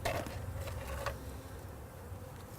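Honey bees from a freshly installed package hum and buzz around the hive entrance, a soft, continuous drone with a few faint flying passes close by.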